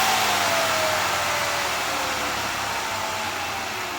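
A 2002 Mazda Tribute engine idles steadily after a clogged-intake fix, a loud, continuous broadband rush with a faint falling tone, close by, with no talk.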